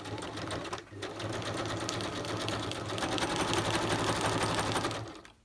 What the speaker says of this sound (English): I figure if my sewing machine can sew all the stuff that it sews, then it can sew this as well.